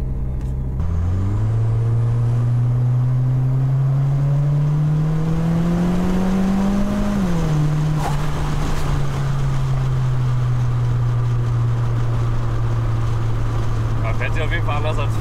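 A VW Golf 3 with a swapped 1.8T turbo engine and DSG gearbox driving uphill, the engine note rising steadily under load, dipping at a shift, then droning on loudly from inside the cabin while someone talks.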